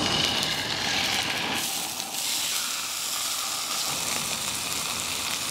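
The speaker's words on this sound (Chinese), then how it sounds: "放进去煎" Farmed sea fish from Xiapu, already cleaned and salted, frying in a hot pan: a continuous close sizzle and hiss with a bright spitting texture throughout.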